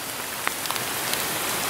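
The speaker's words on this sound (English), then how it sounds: "There's no wind blowing, just a lot of rain." Heavy rain from Hurricane Irma pours down steadily with no wind, a dense constant hiss of drops striking surfaces outdoors, loud and unbroken with a few sharper drip ticks.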